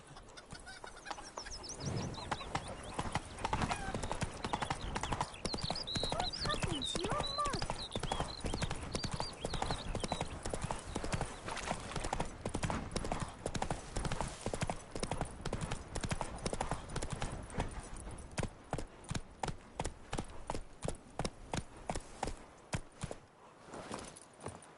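Roach, the horse in The Witcher 3, trotting along with rhythmic hoofbeats that stay close and steady, joined by faint birds and a rooster, with some speech at the start and the clatter sharpening toward the end.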